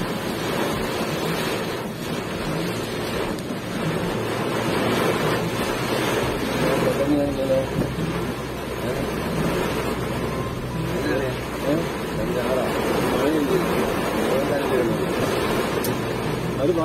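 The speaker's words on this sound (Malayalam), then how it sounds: "പെരുമഴയാണ് പെരുമഴ." Heavy rain pours down during a cyclone, a dense, unbroken roar mixed with gusting wind that stays loud and constant throughout. A voice talks faintly beneath it.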